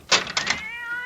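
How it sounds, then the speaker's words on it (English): A cat in a radio mystery drama gives a short, close meow that rises sharply, then trails off into a thin, drawn-out whine, alone with no voices. "that damn cat!"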